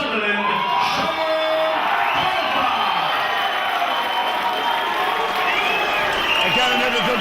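A supportive crowd at an MMA event cheers loudly for Sunderland fighter Colfer, a dense continuous roar with whoops and shouts, while an announcer talks over it.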